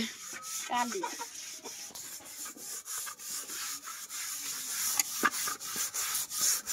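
A blackened lamp wick is rubbed and scrubbed by hand, steady rhythmic scratchy strokes close up, repeating at roughly half-second intervals, with occasional faint voices in the background.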